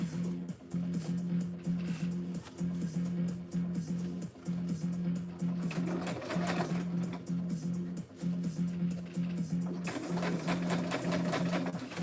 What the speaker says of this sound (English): Take your time on that part and keep it sewing.